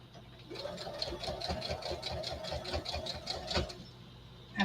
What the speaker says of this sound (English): After the strap, I back stitch a little bit more.